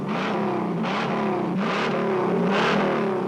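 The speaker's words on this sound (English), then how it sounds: "it comes with its own poke-through air cleaner that jumps when the engine growls" A Ford Mustang Mach 1 V8 engine growls loudly and continuously, rising and falling in a few swelling surges, with no talking.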